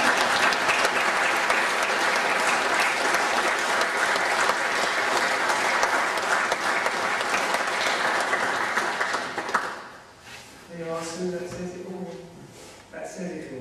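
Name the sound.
mourners applauding at a funeral service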